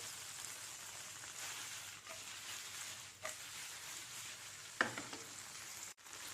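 Dragon chicken is stirred in a pan under a soft, steady sizzle, with a few scattered scrapes and one sharper knock near the end, all faint and without voices.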